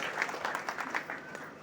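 A group of people clap their hands in a short burst of applause at a prayer gathering. The clapping is fairly faint and sounds like an indoor crowd.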